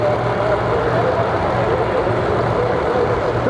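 Pro Line Camaro and Coast Camaro drag cars at the start line at the Snowbird Outlaw Nationals, loud steady engine roar filling the air with a low rumbling drone throughout, crowd and announcer noise mixed in.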